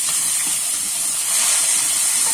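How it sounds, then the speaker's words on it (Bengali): Chopped onion goes into hot oil with cumin tempering, sizzling as a loud, steady, close hiss that holds unbroken throughout, with no talking. "কুচিয়ে রাখা পেঁয়াজটা দিয়ে দেবো,"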